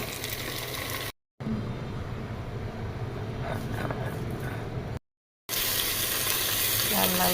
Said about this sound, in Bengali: লাল লাল করে পেঁয়াজ ভেজে নিলাম। এবার দিয়ে দিব আদা রসুন পেস্ট।